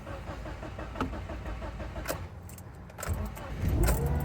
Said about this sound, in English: Actually started up the car now.